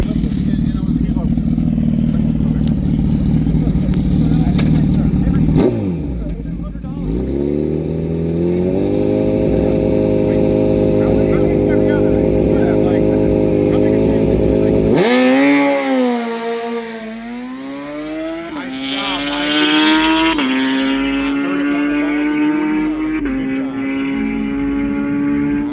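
Gen 3 Suzuki Hayabusa drag bike at the XDA Finals, loud engine roaring and revving through rising gear sweeps as it launches down the strip, with a brief drop before a second hard pull.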